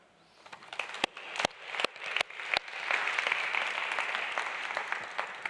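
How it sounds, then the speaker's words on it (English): Applause from an audience at a university sport equality event, building from a few sharp scattered claps into a steady, moderately loud wash of clapping that continues to the end. "It's pledged with a clap of hands."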